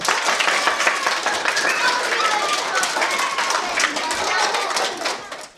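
Schoolchildren at a donation visit applaud, a dense, steady burst of many small hands clapping close by that continues for several seconds before tapering at the end, with no talk over it.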